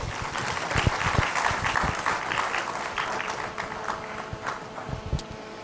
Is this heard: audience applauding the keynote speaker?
yes